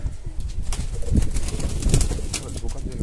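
A Belgian satinette fancy pigeon, a male, gives soft, low coos in a few short pulses, close by amid light rustling and background noise.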